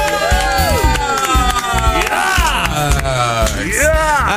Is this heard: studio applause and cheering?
yes